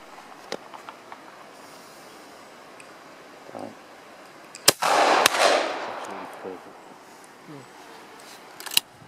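A shotgun fires at clay targets at Anglesey Shooting School, two sharp close reports about half a second apart with a lingering crack of echo, set among quieter outdoor sounds, scattered clicks and occasional voices.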